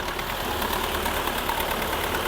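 A vehicle engine runs steadily before mowing alfalfa, a constant broadband drone with a slight knocking texture, close and unbroken throughout.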